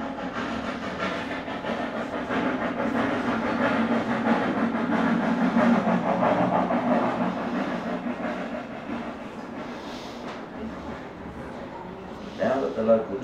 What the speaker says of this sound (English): the local train is now ready to reverse into the siding